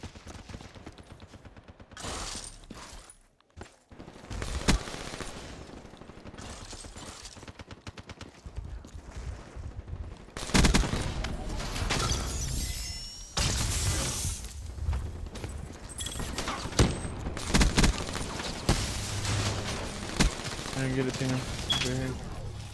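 Gunfire rattles through a Black Ops III multiplayer match as bursts of automatic fire and single shots, some near and loud, some farther off, mixed with game effects and a player talking over the action.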